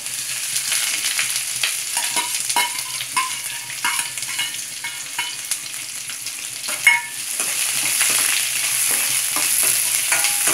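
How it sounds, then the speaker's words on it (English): Onions frying in a pan of tempered mustard seeds with urad and chana dal, a steady sizzle with intermittent stirring scrapes and clicks throughout. "And fry it till golden brown."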